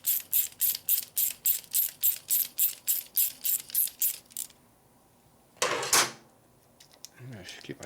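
A socket ratchet tightening a clamp on a 1958 Harley panhead 74ci engine during a top-end rebuild: about fourteen quick, crisp clicking strokes in a steady rhythm, then a pause, a louder metallic clatter and faint handling noises.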